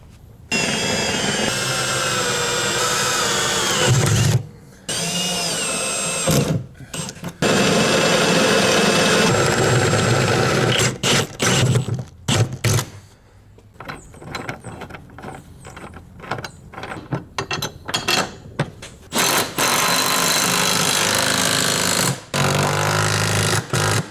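A loud power drill with a large bit grinds steadily through material on a Mazda Miata with an LS3 engine swap, in long bursts, stopping and restarting several times with brief pauses between runs.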